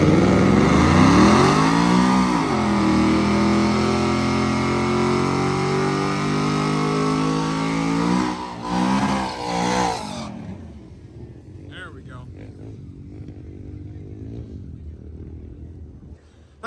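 A drag racing truck launching hard at the strip, with a loud, rising, roaring engine for about eight seconds that then cuts off and leaves quieter ambient noise, while people talk nearby.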